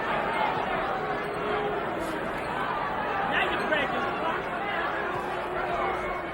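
Boxing arena crowd at a Mike Tyson versus Tony Tucker fight, a restless, continuous murmur of many voices filling the hall, steady and moderately loud throughout.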